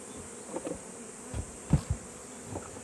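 Honeybees buzzing close by while being fed pollen cake at a hive, a faint steady hum broken by a few soft knocks and handling thumps.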